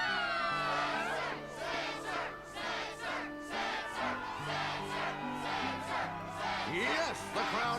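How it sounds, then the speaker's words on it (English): A big crowd in the Kingdom Hearts II Final Mix video game cheers and shouts in rhythmic bursts, loud and steady over music, with no talk. "the crowd is fired up"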